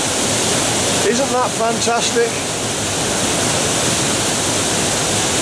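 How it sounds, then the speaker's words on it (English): Low Force waterfall on the River Tees roars steadily and loudly nearby, a constant broad rush of falling water, with a person speaking briefly over it. "It's a low waterfall, but it's certainly a powerful one."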